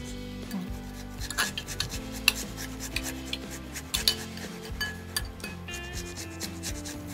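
Boal fish pieces being rubbed with mustard oil by hand in a Barishal-style kitchen, giving a steady wet rasping and rubbing with occasional clinks of a dish, close up and continuous.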